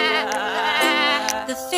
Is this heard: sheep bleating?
yes